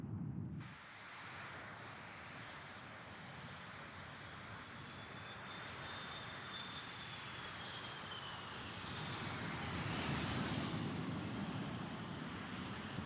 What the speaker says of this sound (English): The F-100 Pratt & Whitney turbo fan engines are accelerated to takeoff speed